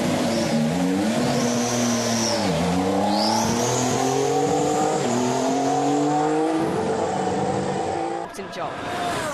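A 2014 Formula 1 car with a V6 turbo engine at the Bahrain test, loud and close, its high engine note rising and falling through gear changes as it passes, with talk partly underneath.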